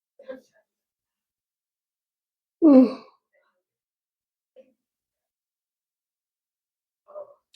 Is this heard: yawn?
yes